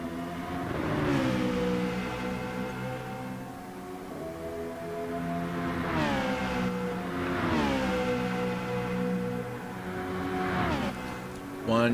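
A race car in a GT racing video game accelerates out of a corner, its engine revving loud and near, climbing in pitch and dropping back at each gear change, several times in a row.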